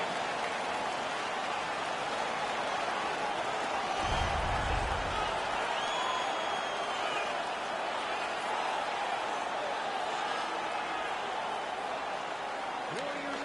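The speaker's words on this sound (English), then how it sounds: "The crowd is so pumped right now." A hockey arena crowd roars after a fight between the Nordic Warriors and the Mooseheads, a loud continuous wash of cheering and noise that persists throughout, with a brief low rumble near the middle.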